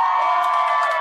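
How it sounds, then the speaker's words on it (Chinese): Supporters cheer and shout as a Democratic Progressive Party legislator takes the stage at an election victory rally in Tainan, Taiwan, a loud sustained roar of the crowd for about a second. "在支持者的欢呼声中登场"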